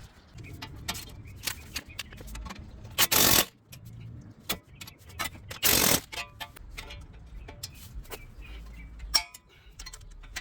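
Torque wrench tightening the strut bolt nuts on a Toyota Highlander during ball joint work, heard as a run of close, sharp metallic ticks and clicks with two longer ratcheting bursts, no talking.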